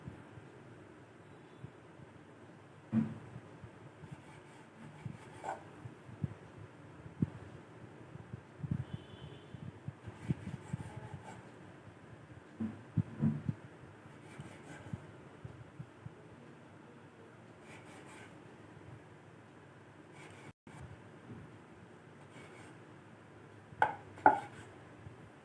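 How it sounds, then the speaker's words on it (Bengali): A knife cuts layered goja pastry dough into shape on a board, giving a scattering of soft, quiet taps and thuds at irregular intervals with long near-silent gaps. "এবার ছুরি দিয়ে আমি গজার শেপ করে কেটে নেব।"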